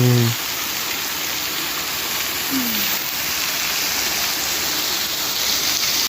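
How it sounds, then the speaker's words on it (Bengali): A waterfall in Meghalaya rushes in a loud, unbroken broadband roar, steady throughout and close by, with a brief low tone at the very start. "আপনাদের পাশ দিয়েই বয়ে যাবে সুন্দর ঝর্ণা।"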